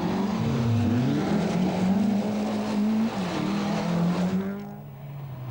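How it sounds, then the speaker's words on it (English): Ford Sierra Cosworth rally car racing over punishing rough terrain at a Scottish rally in 1988, engine droning loud and steady with pitch rising and falling through gear changes, then fading slightly near the end. "Brooks with Neil Wilson alongside him in the Ford Sierra Cosworth"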